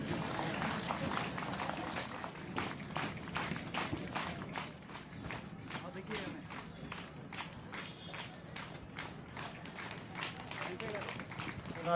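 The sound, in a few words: audience clapping at a mass carol gathering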